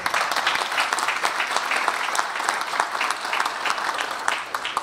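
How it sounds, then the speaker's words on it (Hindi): A crowd at a Hyderabad Bengali community gathering with a BJP candidate breaks into loud, steady applause, dense overlapping clapping from many hands throughout, with no talk over it. "जरा भाई को ताली।"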